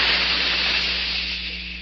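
A jet of moisture sprays with a steady, loud hiss that slowly fades over about two seconds, presented as part of a cigarette advertisement.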